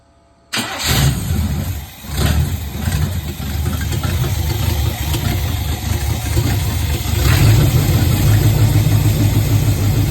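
A budget mud truck's engine cranks and catches, then settles into a steady, loud, rumbling idle that runs on, close by, with no talk over it.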